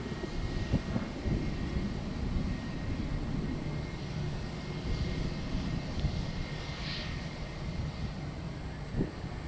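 An airliner takes off at Orlando International Airport, its steady broadband engine roar sustained and fairly distant throughout, with a touch of wind on the microphone.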